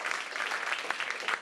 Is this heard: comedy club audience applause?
yes